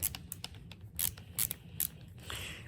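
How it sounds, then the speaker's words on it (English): A ratcheting screwdriver clicks while taking apart an old hair dryer, a close series of sharp, quick ratchet ticks in irregular bunches, ending in a slightly longer grinding rattle. "Me completely forgetting that this is a ratcheting screwdriver."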